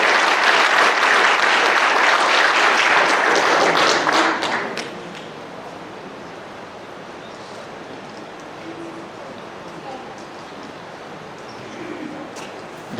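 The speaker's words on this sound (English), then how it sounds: "Give it up a big round of applause for Yerger High School graduate, Ronald Stewart." Audience at a high school athletic hall of fame induction applauds loudly and steadily for about four seconds, then the clapping fades away into quiet room murmur.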